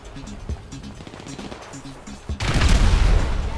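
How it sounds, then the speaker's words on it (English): A grenade explodes in the GTA Online video game, a loud sudden blast that rises out of speech and gunfire-like noise into a sustained rumbling roar lasting to the end. "I'll drop a nade."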